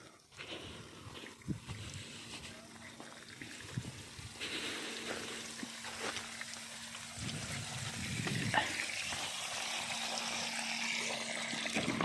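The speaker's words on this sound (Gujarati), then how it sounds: "અત્યારે પ્રેશરમાં પાણી જાય છે એટલે નળીમાં પાણી પણ સારું આવે" Water rushes under pressure through a farm hose pipe in a continuous moderate gush, with a faint steady hum beneath and occasional splashes.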